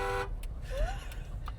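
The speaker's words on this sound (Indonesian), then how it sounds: "Coba klakson dah." Jeep Wrangler horn giving a brief tone at the start, then cutting out into engine and road rumble with faint clicks and squeaks.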